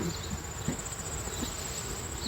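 Honeybees in a heavy, full beehive during a fall check, giving a steady, even insect hum and buzz that fills the whole stretch at moderate level, with no talking.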